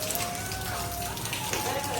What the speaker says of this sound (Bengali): বৃন্দাবনে ভয়ানক বৃষ্টি হচ্ছে কালো মেঘ করে পুরো অন্ধকার হয়ে গেছে